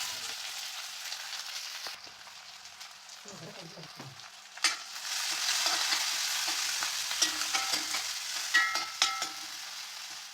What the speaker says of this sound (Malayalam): അപ്പോൾ നമ്മൾ കടുക് പൊട്ടി വന്നപ്പോൾ ഉള്ളി ഇട്ട് കൊടുക്കുന്നുണ്ട്.